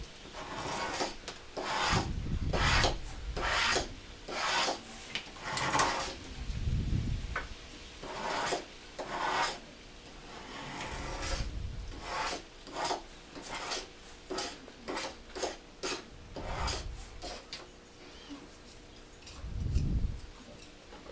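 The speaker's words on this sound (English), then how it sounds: "to get all the little bits and pieces that are still stuck on your mat, you can use the scraper tool to clean it off very quickly." A handheld scraper tool drags across a Cricut cutting mat to clear off stuck paper bits, making a dozen or so close, rough rasping strokes in an uneven rhythm with short pauses between.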